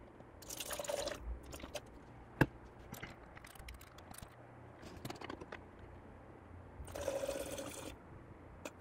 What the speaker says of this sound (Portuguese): colocar num copo graduado 50 ml de água com 50 ml de gasolina